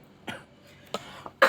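A man coughs three times in a quiet room, with a sharp burst near the start, a second in the middle and a small catch before a louder final cough.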